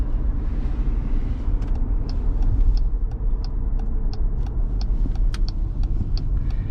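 Low, steady road rumble from an air-suspension Jeep cruising along, with a regular series of faint ticks over the continuous drone.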